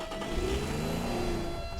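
Race car engine in the video game Teardown, a steady mid-pitched revving drone that holds for under two seconds with no talk over it.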